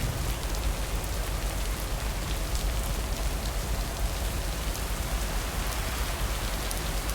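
Steady rain falls in the video game Lake, a dense, even hiss of drops on surfaces with no pauses, heard close and uninterrupted, with no voices.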